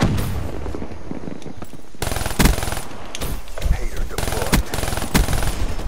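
Rapid burst fire from the 48 Dredge in Black Ops 3, a quieter stretch giving way to loud, dense rattling bursts and booms that continue to the end, with voices faintly underneath.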